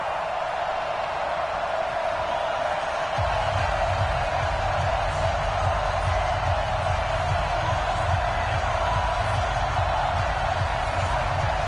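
A raucous stadium crowd roars in an American football video game at the opening kickoff, a continuous loud wash of cheering that swells after a few seconds.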